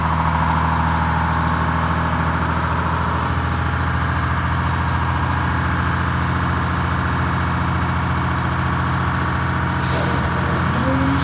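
A vintage bus at a bus rally creeps forward slowly in gear, its engine idling with a steady low rumble and a brief air-brake hiss near the end, heard up close with faint background noise.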